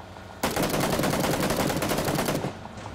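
Gunfire in the video game PUBG: Battlegrounds, a sustained rapid automatic burst that starts abruptly and runs about two seconds before stopping, loud and close, with no talking.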